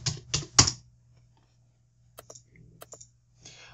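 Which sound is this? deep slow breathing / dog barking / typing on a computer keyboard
typing on a computer keyboard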